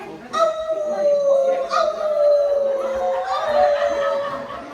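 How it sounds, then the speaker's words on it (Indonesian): Three wolves howl in long, wavering, sustained calls that rise and fall across nearly five seconds, loud and close, with faint background noise beneath. "Ternyata di museum ada 3 serigala penjaga."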